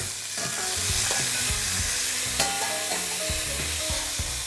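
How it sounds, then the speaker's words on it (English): Sausages sizzle in oil in a pan with a loud, dense, continuous spatter and crackle, steady and close throughout, and no voices. "So once your sausages are sizzled and they're all nicely browned"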